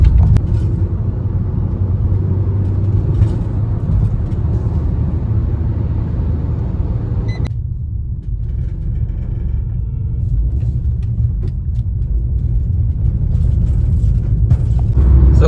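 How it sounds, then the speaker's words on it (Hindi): Road traffic on a national highway near Budhni, heard as a loud, steady low rumble of passing vehicles that runs throughout, with the sound thinning and easing partway through before building again. "और लो नाम लिया शैतान का और शैतान हाजिर, ये लो ट्रैफिक भी मिल गया भाई।"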